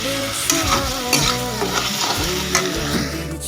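Garlic and chili paste frying with taro in a pan: loud, steady close sizzle under frequent spatula stirs and scrapes, with no talking.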